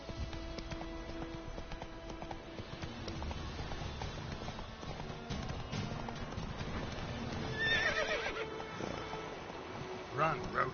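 Roach the horse from the video game The Witcher 3: Wild Hunt galloping with rapid clip-clopping hooves, neighing loudly near the end, as voices speak over the action.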